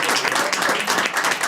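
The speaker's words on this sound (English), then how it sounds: "Please give her some applause" An audience breaks into dense, sustained applause at a political foundation event, loud steady clapping from a crowd with no pause.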